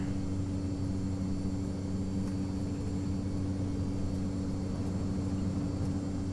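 A Cessna C208B Grand Caravan turboprop applies takeoff power on runway 10 in the X-Plane 11 simulator, a loud, steady engine drone with a deep propeller hum and a faint high whine, continuous and without talk.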